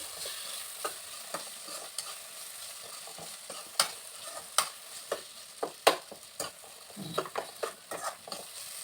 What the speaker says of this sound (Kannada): ಅರಿಶಿನ ಆದಮೇಲೆ ಟೊಮೆಟೊ ಹಾಕೋದು. ಟೊಮೆಟೊ ಸ್ವಲ್ಪ ಬೇಯಬೇಕಿದೆ.